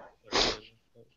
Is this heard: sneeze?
yes